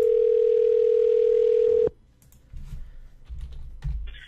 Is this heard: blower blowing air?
no